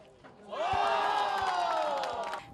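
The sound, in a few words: crowd applauding a basket at wheelchair basketball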